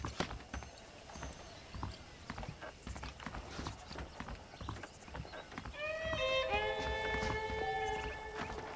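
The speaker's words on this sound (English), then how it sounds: "The horses are saddled up over here." In Red Dead Redemption, hooves clip-clop steadily at a walking pace, with the creak of tack. Later a horse neighs and snorts over the hoofbeats.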